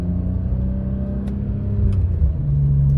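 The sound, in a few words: BMW E46 M3 with SMG gearbox accelerating and shifting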